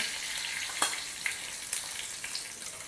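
Curry leaves and asafoetida sizzle in hot oil, a soft continuous frying hiss with a few sharper pops and crackles, close and fairly quiet with no voices.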